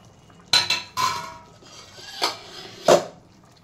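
A metal spoon stirs masala into a pot of curry, giving several loud scrapes and clanks against the pot with short pauses between them, close and clear.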